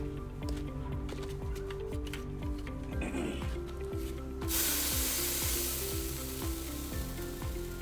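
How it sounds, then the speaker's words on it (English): Dry urea fertilizer granules pour and rattle into a lawn spreader, a continuous gritty hissing that swells louder midway, over a steady mechanical hum. "I'm about to pour it in there"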